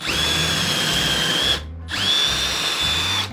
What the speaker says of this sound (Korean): 그 다음에는 구멍을 뚫을 드릴 드라이버가 필요하고요.